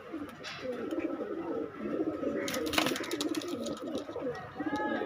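Pigeon squabs for sale at a market stall, cooing in low repeated rolling calls close by, with several birds overlapping and faint chatter around them.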